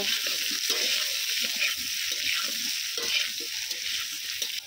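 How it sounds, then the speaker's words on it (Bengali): Salted potato strips, cut long, frying in oil, a dense steady sizzle close by with soft stirring knocks underneath, continuous and without talk. "আলুটাকেও আমি খুব ভালো করে একটু ভেজে নেব।"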